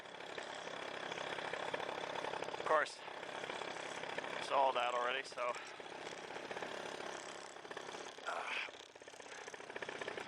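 A paramotor engine idles on the ground, giving a steady, rattling, vibrating drone. Someone talks over it throughout.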